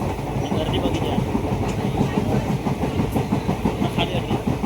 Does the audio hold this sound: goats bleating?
no